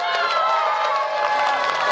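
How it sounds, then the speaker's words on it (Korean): Spectators at a children's breakdancing event cheer and applaud the final young dancer, steady crowd shouting with children's voices and scattered clapping, held at an even level. "박수!"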